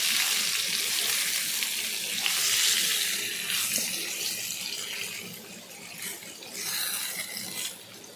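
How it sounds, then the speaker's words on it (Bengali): Potatoes fry in a pan with a dense, steady hiss of hot oil that swells and eases slightly, close up and fairly loud, with no voices. "আলুগুলো আমি খুব ভালো করে ভেজে নিলাম"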